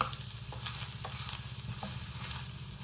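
Fresh curry leaves fry in a pan for eggplant sambar, a continuous close crackling sizzle with a low pulsing hum underneath and a few light stirring taps, no voices.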